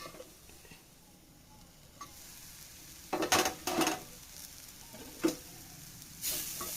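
Cabbage stir-fry stirred in a pan over a low flame: quiet background sizzle broken by a few short, sharp scraping bursts of a spatula against the pan, close by.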